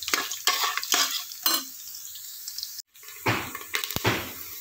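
Grated coconut is stirred while roasting in a pan, with intermittent scraping strokes and soft sizzle in short bursts.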